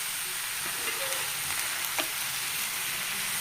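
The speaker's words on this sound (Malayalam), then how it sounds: "സവാള കോടൻ കളറാവാൻ കുറച്ച് ഉപ്പിട്ടാൽ മതി എടുത്ത് വഴറ്റാം" Onions with salt sautéing in a pan for egg curry, a dense, even sizzle with a few faint stirring scrapes, close and steady with no talking.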